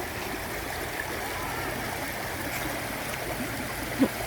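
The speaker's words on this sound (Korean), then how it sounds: "이 물소리도 오래간만에 듣는다." A valley stream flows steadily, giving a constant, even wash of running water with no breaks or talk over it.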